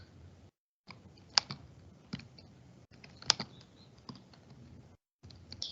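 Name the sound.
typing on a computer keyboard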